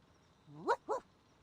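Two short rising whimpers from a puppy in the video game Reverse: 1999, close and clear, the second following quickly after the first, with nothing else around them.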